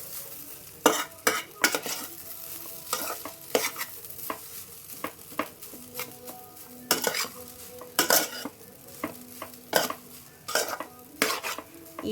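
Maggi masala is stirred into egg rice in a frying pan, with repeated scraping and clinking of a utensil against the pan over a soft sizzle, close up and with no talking.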